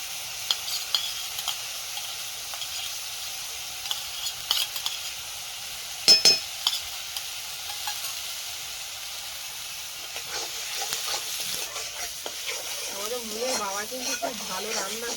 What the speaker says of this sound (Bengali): পেঁয়াজটা ভাজা ভাজা হয়ে গেছে এবার দেবো আদা রসুন বাটা